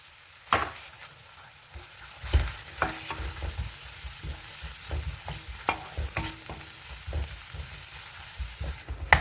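Onions frying in oil until golden, a soft steady sizzle under scattered knocks and scrapes of a spoon against the pan, near and unaccompanied by speech.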